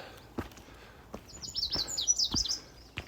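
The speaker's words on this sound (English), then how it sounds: "Lots of beautiful bird song going on." Songbirds along the Lower Table Rock Trail in Oregon give several high, clear chirps and short warbling phrases at moderate distance, interspersed with soft footsteps on the path and no talking.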